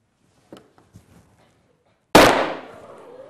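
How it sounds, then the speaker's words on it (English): A hydrogen and chlorine gas mixture in a tube explodes in a single sharp, loud bang that trails off into a brief decay, after a few faint handling clicks and taps. "And there we are, we get a nice bang from that."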